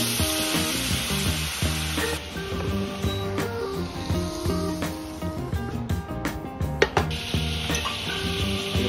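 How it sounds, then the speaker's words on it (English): Meat sizzles and fries loudly in a smoking-hot pan on a hob, a steady dense crackle with occasional sharper pops and the scrape of stirring over the top; no one speaks. "You stick the pan back on the hob, make sure it's still smoking, you want this to happen."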